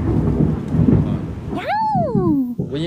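Thunder rolls and booms during a rainstorm, a loud close rumble with rain, followed by a gliding tonal sweep near the end.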